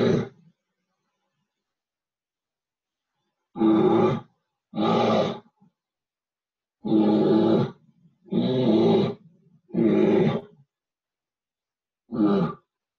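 A voice imitates a grizzly bear communicating: a string of about seven rough roaring grunts, each under a second long, spaced irregularly across the stretch, loud and close, with no other sound.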